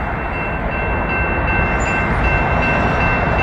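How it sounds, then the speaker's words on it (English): A train passes close by with a steady, loud rumble and rail noise that holds throughout, without a break and with no voices over it. "Got a train coming."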